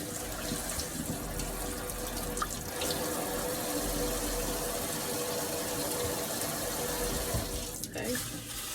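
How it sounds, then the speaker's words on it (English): Roma tomatoes being rinsed under a steady running kitchen tap, water splashing continuously into a sink at close range with a brief clatter near the end. "Rinse them off."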